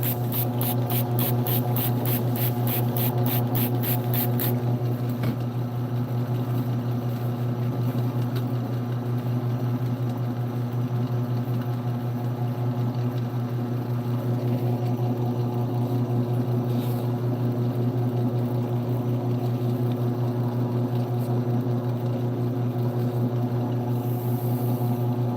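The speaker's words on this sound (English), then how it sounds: "this is the carpet polishing wheel, and we're going to use a cerium oxide. Get it turned on." Carpet polishing wheel running on a lapidary machine while agates are polished with cerium oxide, a loud steady motor drone with strong low hum, plus a rapid ticking rattle during the first few seconds.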